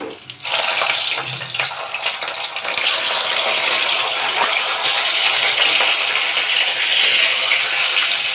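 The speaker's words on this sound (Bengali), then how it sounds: "তেলটা গরম হয়েছে, মাছগুলো ছেড়ে দেবো" Fish dropped into hot oil for a rui and pui shak dish, bursting into a loud, steady, close hiss of frying that holds for several seconds without talk.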